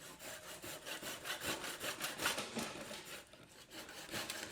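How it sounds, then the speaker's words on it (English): Small wooden reindeer leg being trimmed down so the figure stands level, a quiet close rasping saw or file stroke repeating in a steady back-and-forth rhythm. "just trimming any little bit of leg off until it stops wobbling"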